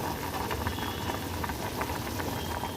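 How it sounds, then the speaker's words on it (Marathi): Sprouted pulses boil in a pot as a dense, steady bubbling roar that holds at an even level throughout, close and continuous. "इथे बघू शकता आपले कडधान्य छान उकळून राहिलेले आहे"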